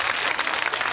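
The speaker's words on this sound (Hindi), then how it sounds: "इनके लिए ताली बजाओ आप लोग" An audience at a Bhagavat katha gathering in Noida claps together, a brief, dense and fairly loud burst of steady applause with no talking.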